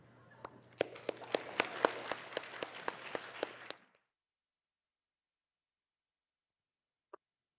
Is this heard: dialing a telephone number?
no